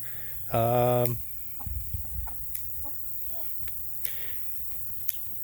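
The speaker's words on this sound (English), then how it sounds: "You can see our Summer rooster." A single loud, strained crow-like squawk from a young rooster near the start, followed by faint rustling, soft hen clucks and scattered clicks in a quiet chicken coop area.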